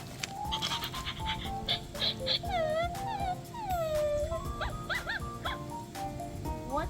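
An Intellipup robot puppy toy gives a run of electronic, dog-like yips, whimpers and pants, close and fairly loud, in quick bursts with no talk over them.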